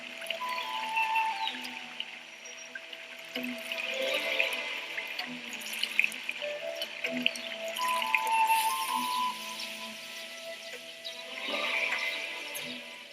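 Indigo block-printed cloth washed in plain water to rinse out alum, lime resist, clay, flour and gum arabic: steady splashing, pouring and trickling water, fairly close, with no talk over it.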